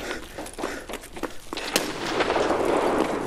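Sharp explosive bursts and pops of a grenade in Escape From Tarkov, a string of blasts followed by a rolling, rumbling roar that sustains to the end.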